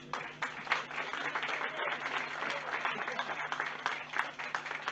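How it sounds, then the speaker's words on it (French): Applause from an audience at a French citizens' RIC day gathering in Caen, a steady patter of many hands clapping at moderate distance, heard over room hum with some faint voices mixed in. "je vous prie d'applaudir"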